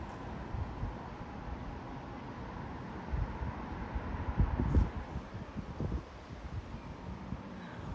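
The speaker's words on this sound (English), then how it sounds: "There goes the wind." Strong gusty wind blowing through trees, including a Chinese elm, during 30 mph gusts in Frisco, Texas, a steady broadband roar that swells in a louder surge partway through, with no talking.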